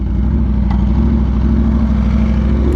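A 2022 Aprilia RSV4 1100 Factory sits idling close by, its steady, loud engine note holding level throughout with a deep rhythmic pulse and no voices.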